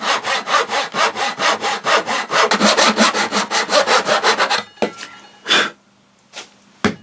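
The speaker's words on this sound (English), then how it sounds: "all my sawing is concentrated up on this top corner first" A hand saw cuts wood joinery for a cupboard door in a quick, steady back-and-forth rhythm, close and loud, then stops, followed by a few scattered knocks and scrapes.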